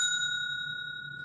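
A small bell rings once with a clear, pure tone that hangs and slowly fades, heard close and alone with no voices.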